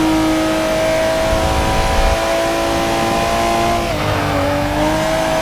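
A 2002 Nissan R34 GTR engine revs hard while racing in the video game Forza Motorsport, a loud sustained engine note that holds steady, then dips and climbs again as the car shifts.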